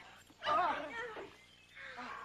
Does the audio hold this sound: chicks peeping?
no